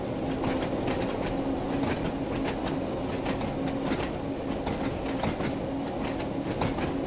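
A passenger train in Train Sim World 2 on the route from Ryde Pier Head to Shanklin rolls steadily along, its wheels giving a continuous rhythmic clickety-clack over the rails under a constant rumble, with no voices.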